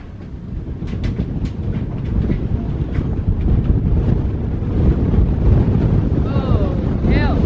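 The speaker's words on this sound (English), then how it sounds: "That wind is shocking." Strong, gusty wind at sea aboard a sailing boat, roaring loudly and buffeting the microphone in a dense, building rush, with a few clicks early and a faint voice near the end.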